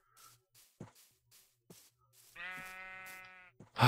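A Minecraft sheep lets out one clear, wavering bleat amid sparse soft clicks and small game sounds.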